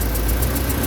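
A Toyota Fortuner engine with reduced power idles steadily up close, a continuous low rumble with faint mechanical vibration throughout the short moment.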